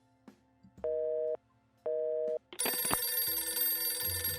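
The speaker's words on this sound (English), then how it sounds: "Another phone call." Telephone in a visual novel video game, two evenly spaced electronic ring tones followed by a brighter burst of ringing, clean and synthetic, with no talk.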